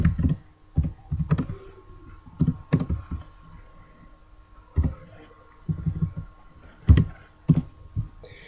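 Computer keyboard typing in short bursts of clicks with pauses between, close and fairly quiet, no talking.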